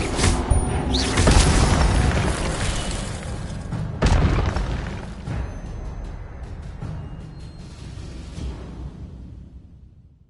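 An Incendio fire spell goes off in Hogwarts Legacy, a loud booming burst followed by a second blast and a long rumbling roar that slowly fades out.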